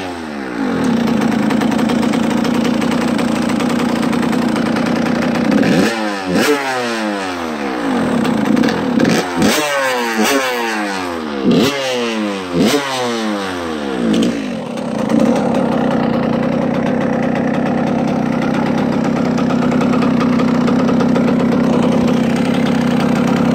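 A 2003 Suzuki RM85 dirt bike engine idles steadily up close, then is revved in a quick series of sharp blips before settling back to a loud, continuous idle.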